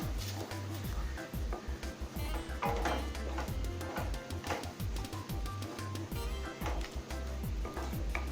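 Kesari being stirred in a kadai with plenty of ghee: repeated scraping strokes of a spoon against the pan in a steady rhythm over a continuous sizzle, close and fairly loud.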